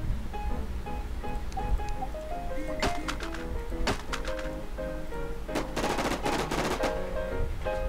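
Gunfire in the survival shooter Infestation The NewZ, with scattered shots and quick bursts crackling over a game music melody, moderately loud and without talking.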